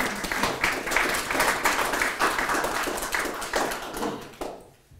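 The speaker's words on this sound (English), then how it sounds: "Let's give them a clap." A lunchtime book talk audience gives a short round of applause, brisk overlapping claps from a modest crowd that swell early, then thin out and fade to silence in the last half second.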